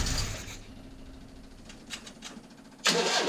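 A 1972 Fiat 850 engine, freshly rebuilt and given fuel in the carburetor, is cranked with a rapid whirring starter, a few sharp bursts, then catches with a sudden loud roar at the end.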